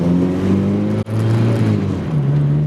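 A Mazda NC Miata with a swapped-in 210 hp 2.5-liter engine, idling and revving in a steady droning hum with one brief dropout, then settling to a slightly lower tone.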